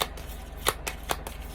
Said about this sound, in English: I wanted to try to get the shuffling on the video for you.